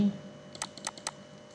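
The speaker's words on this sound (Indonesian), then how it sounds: "kita ketik di sini" Several quick, light keystrokes on a computer keyboard while entering text in a Canva design, spaced in a short burst and soft against a quiet room background.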